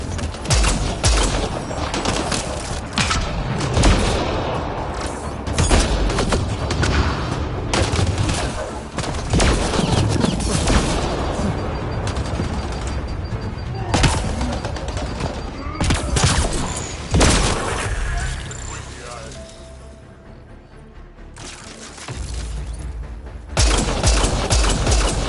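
Dense, continuous gunfire from a Mass Effect: Andromeda firefight, with rapid overlapping shots, bursts and booms that keep up nearly the whole time and ease off briefly near the end before picking up again.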